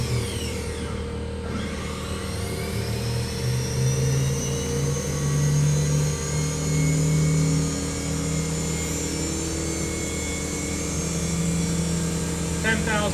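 A 2006 Haas VF-4B CNC vertical machining center spindle spins at its 10,000 RPM top speed, a loud, steady high whine with a sustained tonal hum running continuously throughout.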